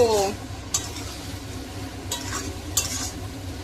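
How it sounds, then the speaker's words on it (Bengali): Prawns with spice masala stir-frying in a pan for a Bengali ol chingri dish give a steady low sizzle, with a few brief scraping stirs of the spatula and no talk. "ভেজে মশলা দিয়ে এখন চলছে কষানো করব"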